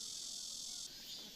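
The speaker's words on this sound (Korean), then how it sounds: "말매미는 끊어짐 없이 긴 울음소리를 낸다." A Korean large cicada (말매미) gives a long, continuous, unbroken high buzz on a summer night, steady and faint, shifting slightly in tone near the end.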